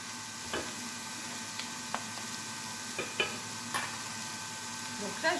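Pineapple pieces frying in a pan give a steady close sizzle, punctuated by a few light ticks and taps of a utensil against the pan.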